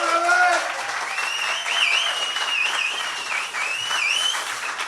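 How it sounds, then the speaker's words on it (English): An audience at a stand-up comedy open mic in a pub venue gives steady, dense applause that lasts the whole time, with a few cheers and whistles mixed into the clapping. "Keep that clap going."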